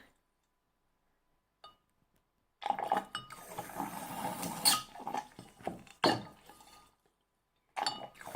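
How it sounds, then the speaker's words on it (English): Close, wet squelching and gurgling bursts of water squeezed in and out of a pipette, with small squeaks, starting and stopping several times in near silence. "I'll clean my pipette by squeezing water in and out of it a little bit."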